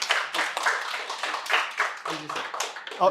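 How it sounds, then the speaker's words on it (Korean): A small audience at a public history lecture claps after the talk, giving loose, uneven individual claps that come through clearly, with a brief voice near the end. "좋은 강의를 해주신 선생님 다시 한번 박수를 부탁드리겠습니다."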